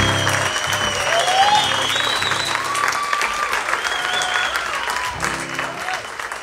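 A warm round of applause from a live audience at the Waterloo Ice House in Austin greets the band, many hands clapping steadily with a few whistles riding above the sustained clapping.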